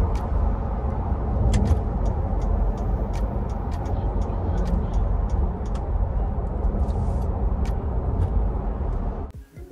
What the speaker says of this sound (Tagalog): So pakinggan natin ang sound ng gulong for a few minutes.